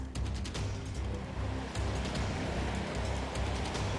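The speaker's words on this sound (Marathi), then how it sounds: "सकाळपासून मुंबईमध्ये मुसळधार पाऊस पडतोय" Heavy monsoon rain pours over Mumbai's Prabhadevi area in a dense, continuous roar, with faint traffic or vehicle rumble mixed in and no speech.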